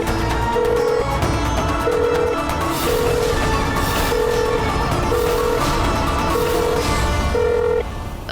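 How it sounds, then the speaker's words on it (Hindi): Telephone ringing after being dialed, heard in a TV drama scene: a repeated electronic ring tone in regular short bursts, about once a second, over a loud, busy background bed. "मैं मिलाती हूँ फोन उन्हें।"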